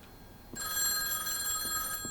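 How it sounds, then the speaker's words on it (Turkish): A telephone in the video game Night Clerk starts ringing partway through, a bright electronic trill that holds steadily to the end, with no talking over it. "Aha telefon. Yoksa beklediğim telefon mu?"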